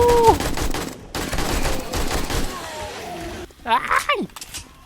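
Heavy gunfire in 7 Days to Die, a dense rattle of rapid shots at moderate distance, broken by brief pauses, with someone talking excitedly over it.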